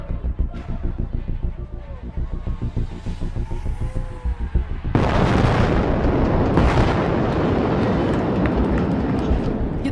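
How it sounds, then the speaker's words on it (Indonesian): A Leopard 2 RI main battle tank fires its cannon at an Indonesian army anniversary display. A loud boom arrives midway and is followed by a long rolling roar and rumble. Engine and crowd noise run beneath it, and no voices are heard. "Saksikan bersama tembakan kanon Leopard 2 RI."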